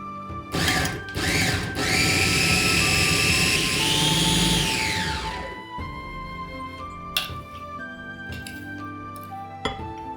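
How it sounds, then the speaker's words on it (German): A blender motor whirs up to a loud, high-pitched spin for a few seconds, finely chopping broccoli, then winds down, followed by a few clicks and knocks. "Im Mixer fein hacken."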